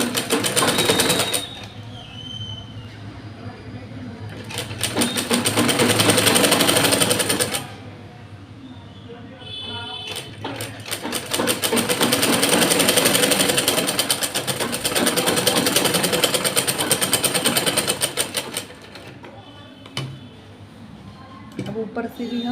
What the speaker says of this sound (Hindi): अब इसको हम सिलाई लगा देंगे।